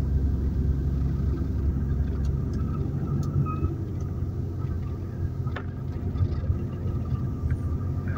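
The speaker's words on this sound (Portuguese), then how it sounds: "Eu só segurando mais no freio motor." Car descends the Serra da Garuva mountain road under engine braking, giving a steady low engine rumble with road noise heard from inside the cabin and no talk.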